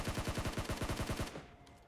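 A SCAR-L rifle in a shooter video game fires a rapid, loud burst of about a dozen evenly spaced shots that cuts off abruptly and leaves a brief fading echo.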